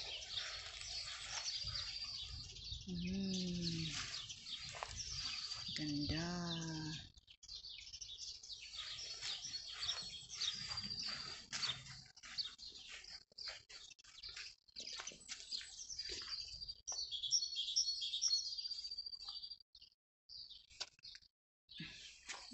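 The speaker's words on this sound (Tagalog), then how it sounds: "Dinig nyo yung sound sa mga ibon" Small birds chirp and tweet steadily in a home garden, bright, busy calls spread across the whole stretch, with a couple of louder nearby calls early on and no talking.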